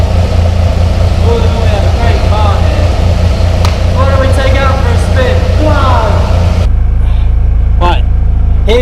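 Small MGB GT engine drones loudly from inside the cabin on a test drive, a steady low rumble throughout with voices talking over it and a drop in the hiss near the end.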